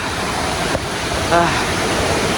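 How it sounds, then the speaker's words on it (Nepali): A waterfall's steady rushing flow fills the air as a broad, even wash of water noise, with a brief voice heard faintly over it. "मस्तो झर्ना केटाकेटी हो पानी बगेको हेर"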